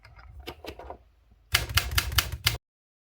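A 1962 Olympia SF typewriter under test clacks through a loose run of soft key taps, then a dense, loud burst of rapid mechanical clatter and line-spacing action that stops abruptly, leaving silence.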